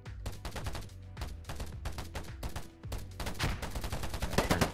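Rapid gunfire from a shooter video game, bursts of automatic shots in quick succession with short gaps, fairly quiet overall and with no voice over it.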